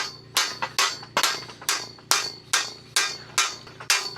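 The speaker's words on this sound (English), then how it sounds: "Tim, I brought a hammer." A hammer strikes repeatedly while fixing a swinging dock outdoors, about ten sharp metallic blows in a steady, slightly uneven rhythm, each ringing briefly before the next hit.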